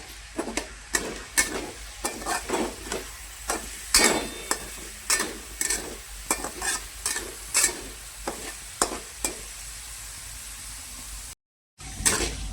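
Carrots stirred and fried in a pan for paneer masala, rhythmic spatula scrapes over a continuous sizzle, close and clear, with a brief silent break near the end.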